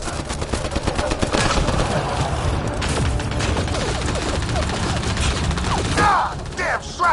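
Rapid sustained gunfire and bursts of shots in a Mass Effect: Andromeda battle, dense and loud throughout, with shouted voices mixed in under the shooting.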